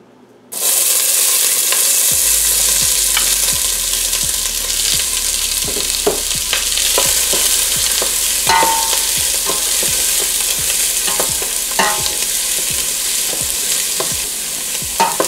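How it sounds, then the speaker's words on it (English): Chopped onions sizzling and frying in hot olive oil in a pan, a loud steady crackling hiss that starts abruptly and carries on with regular scraping stirs. "we'll add our onions into it."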